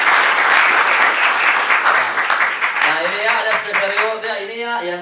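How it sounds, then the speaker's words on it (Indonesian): An audience at a business presentation claps loudly and densely at first, and the applause thins as a speaker's voice comes in over it. "tepuk tangan buat kita semuanya"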